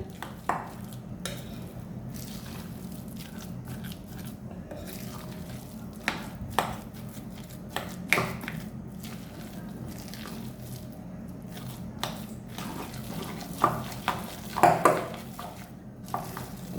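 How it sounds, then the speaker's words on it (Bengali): Lentil batter with onion and green chili juice being stirred and mixed by hand in a bowl, a steady soft wet squelching and scraping with occasional sharper clinks of the utensil against the vessel, close and moderately quiet with no talk. "ভালো করে মিক্স করে নেবো এটা দিয়ে।"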